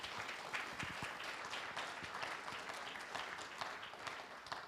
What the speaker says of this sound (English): Let's give an applause for our amazing panel